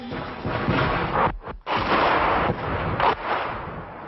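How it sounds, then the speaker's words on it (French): Gunfire in a 1990s war zone on the Karabakh highlands, a dense, sustained loud roar with sharp bursts and a brief drop mid-clip, heavy and close. "un coup vient d'être tiré au but"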